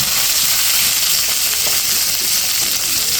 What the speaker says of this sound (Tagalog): O, gisa tayo ng sibuyas.